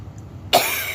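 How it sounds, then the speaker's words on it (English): A single sharp human cough bursts in halfway through, loud and close after quiet room tone, with no talk. "Excuse me, coughing."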